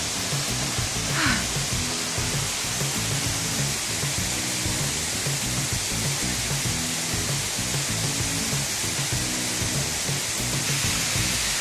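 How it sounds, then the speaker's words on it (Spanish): A steady, dense rush of falling water from a waterfall in San Rafael, Antioquia, pours without pause, loud and close, with no voices. "Yo podría vivir aquí literalmente al lado de una cascada."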